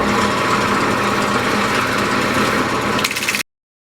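A wood lathe spins spalted wood as the outside is shaped, giving a steady, loud high-pitched whir of motor and cutting that holds evenly for about three seconds before cutting off abruptly.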